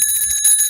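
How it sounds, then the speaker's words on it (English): A bright bell rings steadily throughout a debate competition as the timing signal, loud and sustained with a clear ringing tone and no talk over it. "When you hear the bell, just land."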